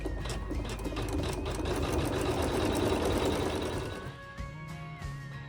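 An embroidery sewing machine stitching quilting lines through fabric, a steady fast mechanical whirr and rapid needle chatter, close and continuous before easing to a lighter hum near the end, with no speech.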